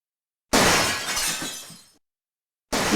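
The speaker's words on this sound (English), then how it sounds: "Gabriel hears the faint sound of breaking glass." Glass shatters in the video game Gabriel Knight: Sins of the Fathers. A single loud crash is followed by a tinkling, fading scatter of shards, then silence before another burst of noise.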